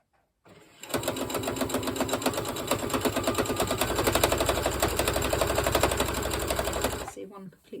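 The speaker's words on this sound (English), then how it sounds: "the next thing to do is to sew all around the same seam again" Sewing machine running a steady seam along curtain fabric, a fast even needle rhythm close up that starts after a brief pause and runs for several seconds before stopping.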